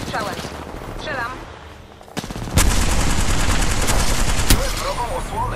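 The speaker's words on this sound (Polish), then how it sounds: "Jestem pod ostrzałem. Strzelam." Rapid automatic gunfire in the Apex Legends shooter, a dense sustained burst of loud close shots with sharp cracks, following a quieter stretch of game sounds, with spoken game voice lines mixed in.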